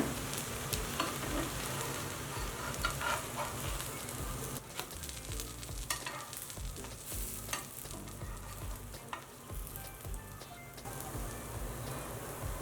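A sambar dosa sizzles steadily on a hot pan after being flipped, with a continuous crackling fry and occasional scraping or stirring clicks, close and even throughout, with no talking.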